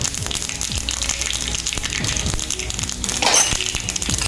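Cumin seeds go into hot oil for tempering and give a steady, close sizzle broken by small crackles, with a brief rushing swell near the end.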